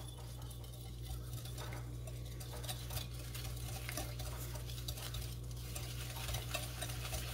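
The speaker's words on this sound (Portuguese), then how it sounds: "Vamos misturar até ficar um creminho" Egg and sugar being whisked by hand in a bowl for an orange cake, a continuous close scraping and clinking of utensil against the bowl at a steady, rapid rhythm.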